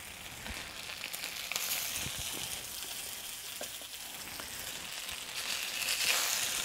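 Turnip cake slices searing in a very hot pan give a continuous close sizzle and fry with scattered crackles and small pops throughout, steady and fairly loud, with no talking.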